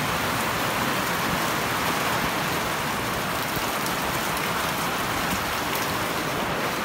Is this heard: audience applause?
no